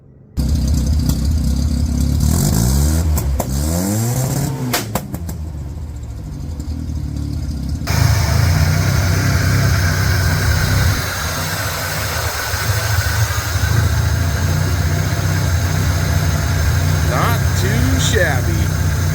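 A junkyard Mazda RX7 engine runs loud and steady through its exhaust, with a rough rising rev early on before settling into a sustained heavy drone, close up, with some background voices.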